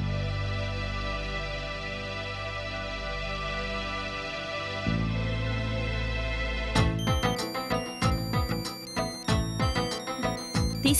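A phone ringtone in a Telugu TV drama scene, a melodic tone that starts partway through and turns into a louder repeating ringing pattern after a quieter opening.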